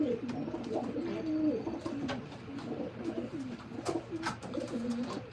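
Pigeons in a loft coo repeatedly at close range, several birds overlapping in soft, rolling calls over a quiet background hum.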